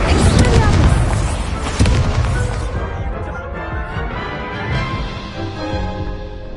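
A fire spell in the video game Hogwarts Legacy erupts with a loud, roaring burst that crackles and rumbles, then slowly decays into a fading, flickering tail over several seconds.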